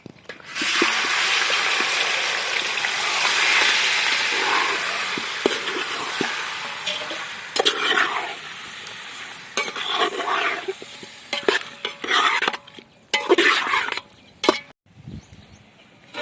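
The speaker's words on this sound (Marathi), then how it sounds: "आता हे चिकन तेलामध्ये टाकू तळण्यासाठी" Chicken pieces drop into hot oil and fry with a loud, steady sizzle at first, then crackling and spattering continue in bursts as the pieces are stirred.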